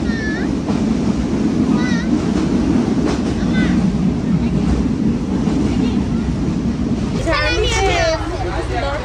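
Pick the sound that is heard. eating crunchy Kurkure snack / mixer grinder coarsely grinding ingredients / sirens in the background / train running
train running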